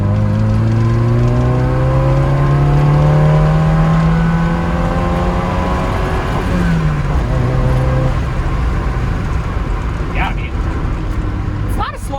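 A 1972 BMW 2002 with its M10 engine pulls hard in second gear, its drone rising steadily in pitch as it accelerates, close and loud with road noise underneath.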